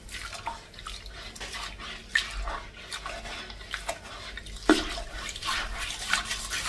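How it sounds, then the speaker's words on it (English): A brush scrubs a toilet bowl to remove calcium stains after a soak with denture tablets, giving a wet, gritty, repeated rubbing with small splashes and drips, close and moderately loud, with no speech. "So if we just scrub it, it will come off quite easily."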